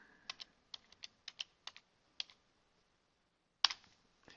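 Someone types a short word into a search box on a computer keyboard: about ten crisp, separate key clicks at an uneven pace, then a pause and one louder press, all close and quiet.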